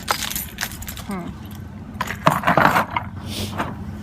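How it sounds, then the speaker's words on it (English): Keys jangle as they are set down indoors, a short bright metallic clatter near the middle followed by a faint clink, close and fairly loud against a quiet room. "Probably put down my keys unless I want a shaker."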